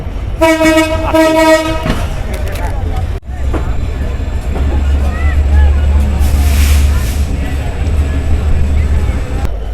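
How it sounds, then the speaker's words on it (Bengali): Barendra Express train departing Santahar railway station in Bangladesh, a loud horn blast in the opening two seconds, then the steady low rumble of the moving train running on continuously. "ছয়টা বেজে ষোলো minute Barendra express Santahar railway station থেকে ছেড়ে গেল"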